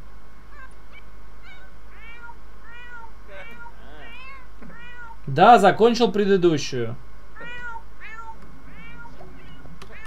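A cat meows repeatedly in The Sims video game, a loud drawn-out burst of meows in the middle against a quiet game background, with someone speaking briefly.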